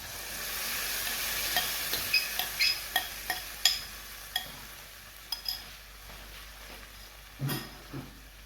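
Mixed dal cooks with tomatoes in a pan, a soft sizzle under a run of quick spoon scrapes and clinks against the metal, close and fairly quiet.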